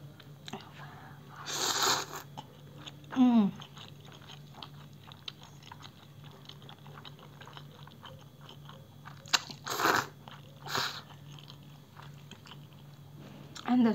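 Someone eats bibimmyeon noodles up close, with a few sharp chewing and crunching bursts spaced across quiet stretches, plus soft whispered talk.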